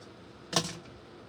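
Scissors cut off the end of a beaded cord while pumpkin ornaments are being made: a single short, crisp snip in an otherwise quiet room.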